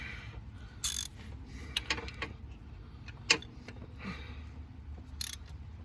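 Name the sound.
wrench loosening tight exhaust manifold nut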